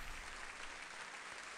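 Crowd applause in the BattleBlock Theater video game, a faint, steady wash of many hands clapping with no breaks, heard alone without talk.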